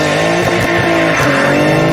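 A Nissan 300ZX with 480 brake horsepower and a competition clutch roars loudly and steadily through a burnout, its engine note wavering and sliding in pitch with tire noise mixed in, close and continuous with no voices.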